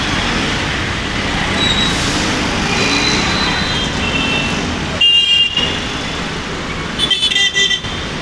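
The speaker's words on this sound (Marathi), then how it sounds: "माझ्या मागे बघा किती गाड्या." Busy road traffic with many vehicles passing, a steady loud roar of engines and tyres with bursts of horns honking near the end.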